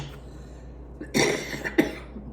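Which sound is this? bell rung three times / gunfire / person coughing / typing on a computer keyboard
person coughing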